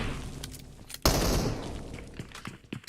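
Gunfire in PUBG Mobile during a competitive esports match, a sudden loud burst of shots followed by scattered distant pops, with a rumbling game background.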